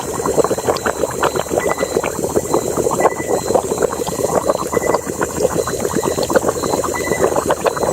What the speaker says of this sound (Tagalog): Kumukulo-kulo yung tubig bro.